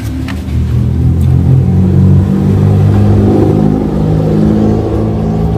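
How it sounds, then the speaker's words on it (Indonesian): A generator set being serviced for a fault with no electrical output runs with a loud, steady, close engine drone that stays even throughout with no pauses. "sekarang mesin mau saya hidupkan."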